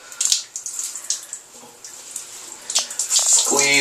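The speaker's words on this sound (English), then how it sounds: "Squeeze until you get all, well, obviously not all the water, but a majority of the water out." Water squeezed by hand out of freshly washed dreadlocks, with wet splashing and dripping bursts coming in uneven squeezes, close and moderately loud, swelling into a steadier gush at the end.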